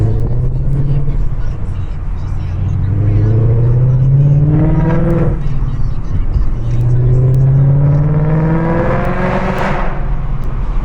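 A supercharged Whipple S650 car roars while being driven, revving up twice in long rising sweeps that then fall away. The engine sounds loud and close, and a voice talks over it.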